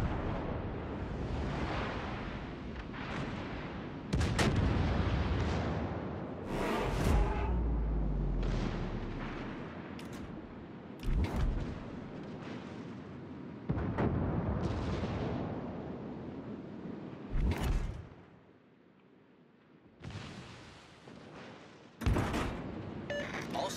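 Heavy naval cannon fire from warship guns in World of Warships Legends, a French Aigle destroyer in play, booming in repeated loud salvos at irregular intervals, with deep rumbling blasts and sharp cracks throughout.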